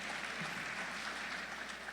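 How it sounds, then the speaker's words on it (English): At a pharmacy college hooding ceremony, a large audience claps in a steady, even wash of applause, moderately distant and sustained throughout. "I'll wait for applause"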